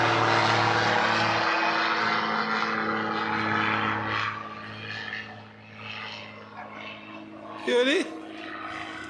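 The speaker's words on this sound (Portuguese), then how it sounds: "acabamos de passar um avião aqui em cima" A propeller airplane drones overhead outdoors, loud at first and slowly fading into the distance while someone talks over it.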